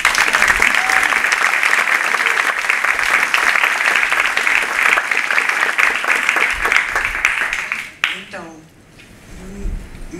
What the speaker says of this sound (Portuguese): Ela não está à vista, mas eu peço uma salva de palmas.